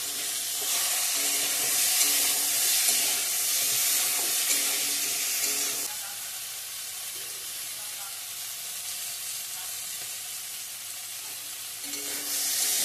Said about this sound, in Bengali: এখন রান্না করতে পটল ভাজা করে নিচ্ছি।